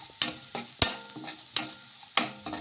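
Long-cut carrot slices and onions stir-fried for homemade noodles: a steady sizzle with four or five loud, rhythmic spatula scrapes and tosses against the pan, close and crisp, with no voices.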